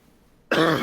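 A single sharp cough with throat clearing bursts out of near silence, close and brief.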